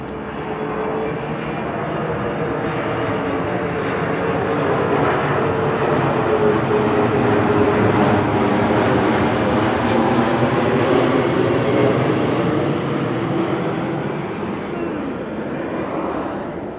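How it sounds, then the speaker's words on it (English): A patrol plane passes directly overhead, a steady broad engine roar that swells toward the middle and slowly eases off, heard alone without talk. "Another patrol plane coming directly over my head again."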